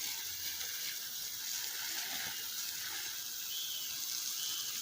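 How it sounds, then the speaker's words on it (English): Water splashing steadily onto scallion plants in a sunny yard, a continuous close hiss and patter with no talking. "But most of the scallion them I'm giving them water right now."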